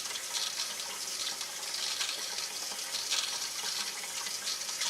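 Water runs steadily from a newly installed kitchen faucet in a house with old pipes, a constant close hiss and splash into the sink with no talking.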